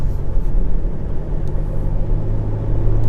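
An Isuzu D-Max 2.5 SLX pickup on a test drive in Khon Kaen, Thailand: a steady loud low rumble of engine and road noise from inside the cab, with no talking.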